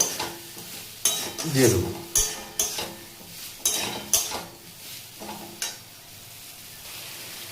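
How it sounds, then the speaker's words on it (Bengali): Potatoes being stirred and fried with spices in a pan for a Bengali spicy pointed gourd dish, with repeated scraping strokes and bursts of sizzle close by, and a brief voice near the start. "তো আলুগুলো দিয়ে মিনিমাম একটুখানি কষিয়ে নেবো আমরা।"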